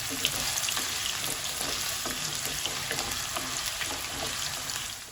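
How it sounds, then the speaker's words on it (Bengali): Potatoes frying in a pan for a mixed vegetable dish give a steady, dense sizzle that runs evenly throughout, with faint crackles and light stirring under it and no talking. "আলুটা কিছুক্ষণ ভেজে নিই"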